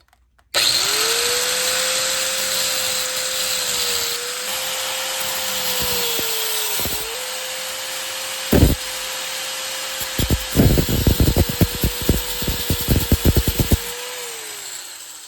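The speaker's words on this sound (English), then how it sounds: "We're going back to the cutoff disc here, just so I can kind of work through this material a little bit quicker until I get closer to the actual barrel." A Dremel rotary tool with a cutoff disc cuts through the aluminum handguard retainer of an M85/ZPAP85 rifle. The motor spins up to a steady, loud high whine, then rapid gritty grinding bursts break out as the disc bites into the metal.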